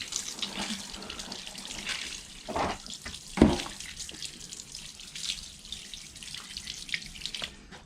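Tap water running and splashing while paint stripper residue is rinsed off a surface, a steady close hiss of flow with a few louder bursts and splatters partway through.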